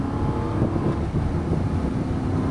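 An Aston Martin V8 Vantage engine drones loudly and steadily on a race circuit, revving under acceleration in fourth gear with rumbling low tones and no talking.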